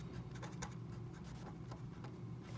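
Chalk or marker scratches across a classroom board during a chemistry lecture on voltaic cells, a series of quiet rhythmic strokes over a steady room hum.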